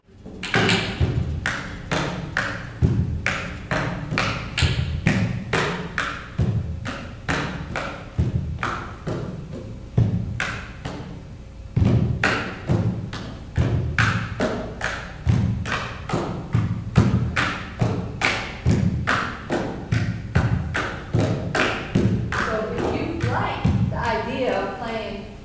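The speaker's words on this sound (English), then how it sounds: "Using the guitar as a percussion instrument" Acoustic guitar struck as a percussion instrument, with steady, driving thumps and slaps on the body and strings in a fast repeating groove, close and loud for the whole stretch.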